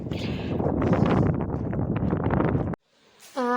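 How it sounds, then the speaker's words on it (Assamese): Strong wind roars into the microphone as a loud, continuous buffeting rush, then drops out abruptly near the end, leaving near silence before a brief tonal sound at the close. "ইমান বেছি বতাহ মাৰিছে নহয়, তাত থাকিবই পৰা নাই"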